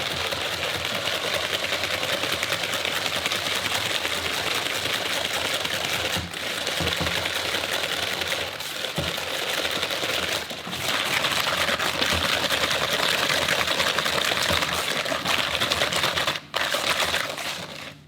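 A whisk beats almond cream frangipane mixture in a bowl, producing a dense, fast, continuous scraping rattle that stays loud and close for the whole stretch, broken only by a few brief pauses.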